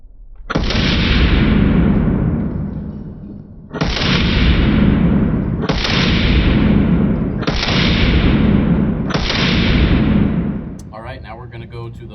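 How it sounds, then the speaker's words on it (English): Five slow, evenly spaced pistol shots from a Springfield Prodigy Comp firing 124 grain training ammo, each a loud, close, sharp crack with a long fading echo and no talk over them. "now we're going to go ahead and do 5 more shots in slow motion with the 124 grain training ammo"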